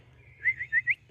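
A person whistles to call cows in an open field, four short rising tones in quick succession over a faint low background hum.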